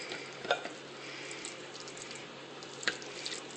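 Ground meat and tomato soup for shepherd's pie being mixed in a pan, with a soft wet simmer and two distinct spoon clinks against the pan. The sound is quiet and close, and no one talks.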